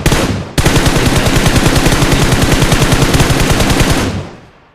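Automatic gunfire in the battle royale game BGMI on the Karakin map: one short shot, then a loud, continuous rapid burst of rounds that runs for several seconds before cutting off.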